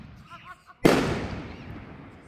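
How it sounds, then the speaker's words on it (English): A firework bursting outdoors during a solar eclipse gathering in Westlake, Ohio: one sharp, loud explosive bang after faint chatter, followed by a fading crackling tail. "I'm gonna do a firework."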